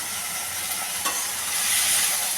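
Bitter gourd (karela) slices fry in a pan with a steady, close sizzling hiss that swells slightly toward the end, with no one talking.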